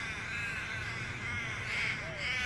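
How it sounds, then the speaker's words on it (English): A murder of crows caws in a steady run of harsh, layered calls that carry through the whole stretch, with faint voices underneath. "there's no other sort of bird up there, just crows"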